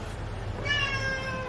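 A single drawn-out cat meow rises clearly midway through and holds for most of a second over a steady low background hum, with nobody speaking.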